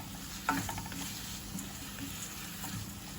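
Onions and tomatoes sauté in a pan for tomato chutney served with idli, a soft continuous sizzle with a brief clatter of stirring near the start, heard close up without speech.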